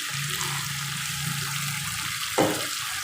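Water poured into a pan of chicken and potato masala, a brief splashing sizzle near the end over steady frying crackle, close and fairly loud.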